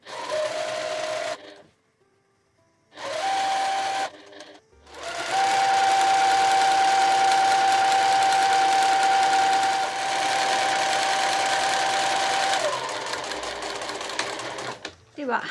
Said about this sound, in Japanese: ちょっと手で押さえながらゆっくりと縫っていきます